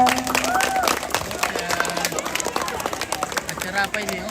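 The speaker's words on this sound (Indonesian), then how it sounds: "mari beri tepuk tangan untuk anak-anak kita" An audience at a church Ascension Day celebration claps for a group of children. The loud, busy applause is mixed with voices and some musical tones and continues throughout.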